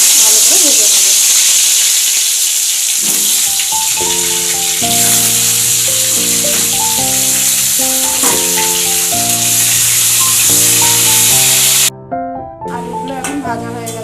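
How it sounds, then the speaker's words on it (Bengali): Potato pieces fry in hot oil in a wok while chicken kosha is being prepared, giving a steady close sizzle and hiss that runs under loud melodic background music for most of the stretch. "এবার আমি মাংসের আলুগুলোকে ভালো করে ভেজে নেব।"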